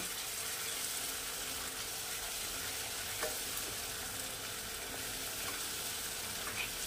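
Spiced masala sizzles and fries in a pan with a few spoonfuls of water added, giving a steady, close hiss with faint stirring clicks throughout and no talking.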